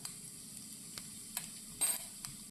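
Fennel seeds sizzle in hot coconut oil in a pan for a home-style chicken curry, a faint steady hiss with a few soft crackles and one louder pop near the end.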